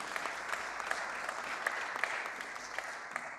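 Applause fills a parliamentary assembly chamber during a summer session sitting, a steady, moderately quiet patter of many hands clapping at once with no one speaking.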